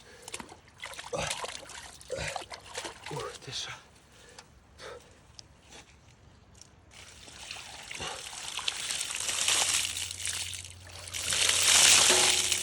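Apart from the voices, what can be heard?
cold water poured from buckets outdoors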